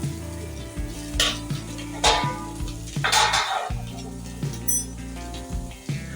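Vegetables for a mixed veg curry stirred in a pan once the lid is off, with a few bursts of scraping and sizzle over a low steady cooking hum, close and without voices.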